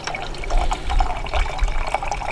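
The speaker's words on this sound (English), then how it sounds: "Look at that flow rate when you put some pressure behind it" Water streams steadily from a squeezed BeFree filter bottle outdoors at Dry Lake in the San Gorgonio Wilderness, a loud continuous splashing flow with small surges as pressure is applied.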